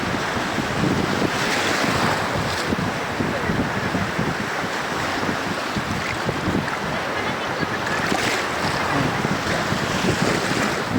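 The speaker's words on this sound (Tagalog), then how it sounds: "Lakas ng alon." Strong ocean waves surge and crash steadily during a seaside birthday outing, a loud, dense wash of surf and wind noise that never lets up across the whole stretch.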